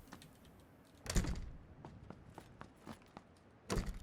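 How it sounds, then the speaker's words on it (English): A door closes in PUBG, heard as a couple of sharp wooden thunks separated by a few seconds, amid quiet indoor ambience and faint shuffling. "I'm going to close the door."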